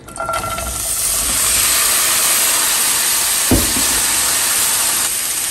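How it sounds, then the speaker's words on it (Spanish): Chopped vegetables hiss and sizzle loudly in a little oil in a frying pan, a steady close crackle that starts moments in, with a single clunk midway and no voices. "Vamos a poner un sartén con un poquito de aceite y le vamos a agregar lo que picamos."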